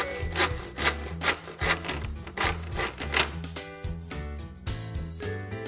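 Wooden Panaget Bois Mural wall panel board being cut, with steady rhythmic rasping strokes under background music, close and moderately loud.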